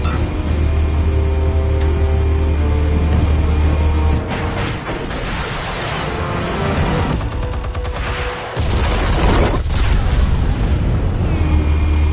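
Explosives detonating in Batman: The Telltale Series, a dense run of loud booms and crackling blasts over a continuous deep low rumble, with a brief drop in the roar before the heavy blasts resume.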